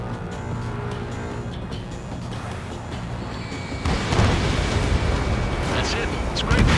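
In a jet combat video game, an enemy bomber is hit by a missile and explodes, a rumbling blast rising over steady engine roar, loud and close, with radio chatter over it.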